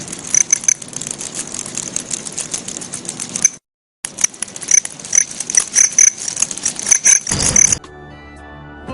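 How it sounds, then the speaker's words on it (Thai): A male cricket's dense, rapid chirping with a gap of near-silence partway through, then an abrupt shift to a different quieter tone. "จิ้งหรีดที่สามารถสร้างเสียงได้ คือจิ้งหรีดเพศผู้"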